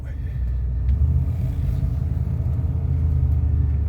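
A 1976 Cadillac Coupe DeVille cruises with its windows up, a steady, low, muffled engine and road rumble filling the cabin at an even level throughout.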